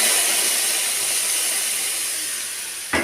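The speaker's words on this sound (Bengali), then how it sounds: "এবার জল দিয়ে দিচ্ছি" A loud, continuous hiss of steam rises as water goes into a pan of fried kohlrabi, fading slowly over several seconds and ending in a short knock.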